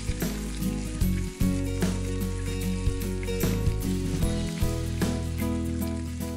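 Chopped vegetables and crushed garlic sizzle steadily in a hot pan, a loud, continuous crackling fry punctuated by clinks of a spoon stirring, with background music and no talk.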